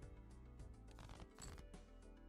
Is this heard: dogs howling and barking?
no